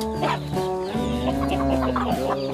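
Chickens cluck loudly and close by in a busy, overlapping chorus while they wait to be fed black soldier fly larvae.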